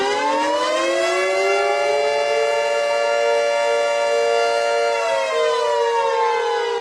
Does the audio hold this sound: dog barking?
no